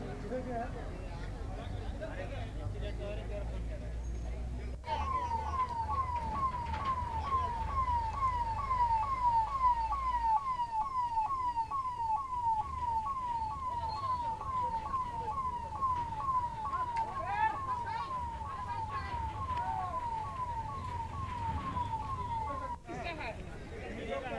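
An emergency siren wails in a steady rapid up-and-down pattern, fairly loud and continuous for most of the stretch, with people talking urgently over it.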